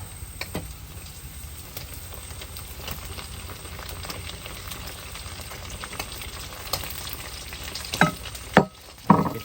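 Fried fish tossed into a cooked spice paste in hot oil, sizzling and crackling steadily at close range, ending with a few louder scraping stirs.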